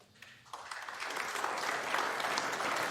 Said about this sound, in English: the crowd aren't quite sure whether to applaud because it sort of looked good